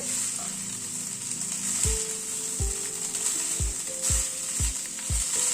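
Cooked rice with sugar being stirred in a hot pan for veg kofta rice: a soft sizzle underneath and a series of sharp spoon-on-pan knocks roughly every half second, close and fairly quiet, with no talking.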